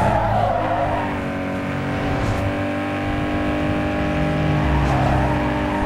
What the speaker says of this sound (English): He actually crashed while going very fast over a jump